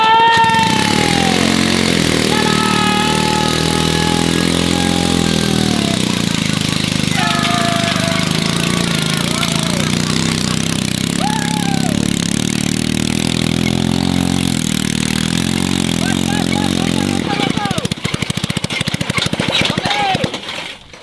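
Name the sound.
engine fitted inside DIY army tank running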